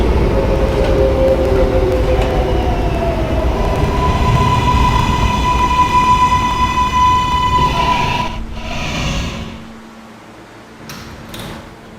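A K subway train rides along the tracks, giving a steady loud rumble with sustained whining motor tones for about eight seconds before slowing and quieting, followed by faint brief clunks near the end.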